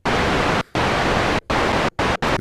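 Dark, low-heavy noise from a Roland SH-101 synthesizer, less hissy than white noise, steady and loud, switched on and off in several bursts.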